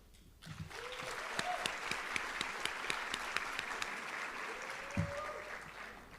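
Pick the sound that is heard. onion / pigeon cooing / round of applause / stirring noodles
round of applause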